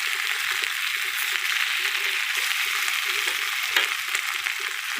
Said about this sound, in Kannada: ಅದಕ್ಕೆ ನಾನು ಇಷ್ಟ ಎಣ್ಣೆ ಹಾಕಿ ಹುರಿತೀನಿ